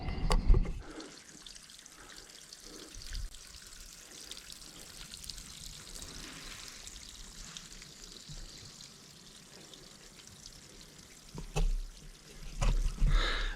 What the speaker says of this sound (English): there are little springs like this along the way